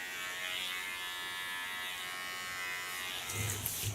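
Electric hair clippers run steadily as they cut natural curly hair, a faint continuous buzz close by with a slight change in tone near the end.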